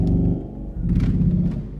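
A very deep contra ophicleide reed stop on the pedal of the St. John's church pipe organ, a loud low note droning steadily with a rough, buzzing edge and a brief dip in the middle.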